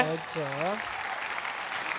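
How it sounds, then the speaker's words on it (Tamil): Audience applause at the Super Singer Junior 10 televised singing competition, a dense clapping roar that swells in after a brief voice at the start and continues steadily to the end. "ஒரு பெரிய கைத்தட்டல் கொடுங்க"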